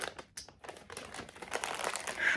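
Coffee bag packaging crinkles close by, an irregular run of crackling rustles that builds in loudness toward the end, with no talk over it.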